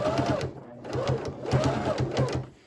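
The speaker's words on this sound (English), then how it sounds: "I'm gonna go ahead and stitch this together." A sewing machine stitches quilt binding with a fast rhythmic mechanical whir in several bursts separated by short pauses, close and prominent, with a voice speaking over it.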